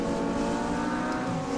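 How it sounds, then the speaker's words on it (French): Audi R8 LMS GT4 2020 race car engine in the RaceRoom racing game, a continuous strong engine drone held at steady revs for the whole stretch, loud and up close with no voices. "Le son du moteur est assez bluffant sur toutes les autos."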